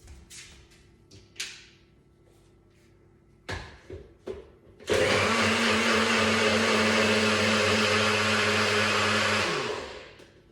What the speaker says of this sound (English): I'm going to put it in, put my lid on, and then I'm going to blend it for a couple of seconds